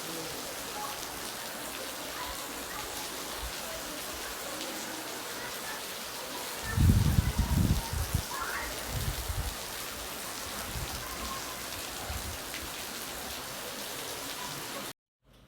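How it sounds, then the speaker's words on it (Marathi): Steady, even pre-dawn monsoon rainfall hisses throughout, with a brief burst of low rumbling movement in the middle. "किती पाऊस आहे बघा"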